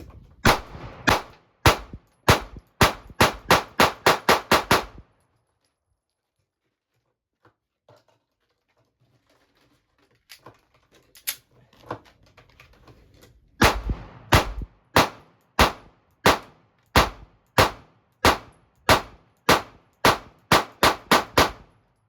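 Rapid pistol fire from a Sig Sauer P365 and a Springfield Armory Hellcat during a 1,000-round test, two strings of a dozen or more loud, evenly spaced shots separated by a quiet pause with faint handling sounds.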